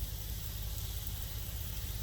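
Continuous close-up sizzle of chicken saltimbocca frying seam side down in a skillet, an even crackling hiss throughout without talking.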